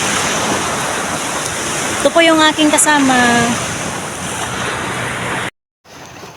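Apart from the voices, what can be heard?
sea waves and wind at the beach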